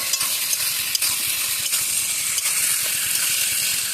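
Vegetables and spices fry in oil with a steady, close hiss and sizzle while a utensil scrapes the pan in quick repeated strokes.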